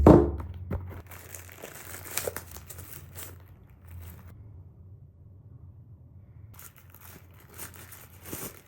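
Packaging of a UGREEN M.2 enclosure being opened, with a loud thump at the start, then soft crinkling and rustling of wrapping in short bursts, close by with quiet gaps and no talk.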